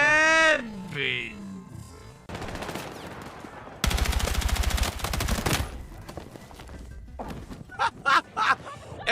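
Gunfire in a video game: dense, rapid bursts of automatic shots with loud crashing impacts through the middle, mixed with a voice talking before and after.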